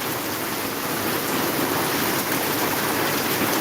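Heavy rain pours down in Maharajpur as a dense, steady wash of hiss with no letup, loud and continuous across the whole stretch, with no voices.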